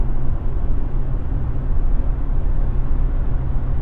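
Road noise inside the cab of a 2016 GMC Canyon Duramax diesel pickup, a loud, steady low rumble and broadband roar continuing without break.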